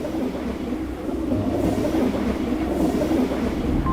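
A train runs on rails with a continuous close rumble and faint rhythmic clatter of wheels, steady throughout, with no voices.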